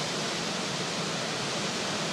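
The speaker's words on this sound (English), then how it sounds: "Nugget Creek waterfalls and the reflection" Nugget Creek waterfalls near Mendenhall Glacier in Alaska send up a steady, broadband rush of falling water, a constant hiss with no pauses and no voices.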